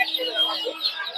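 Chicks chirping among many colored chicken chicks at a poultry and duck market in Tongi, with a steady busy twitter of high calls throughout.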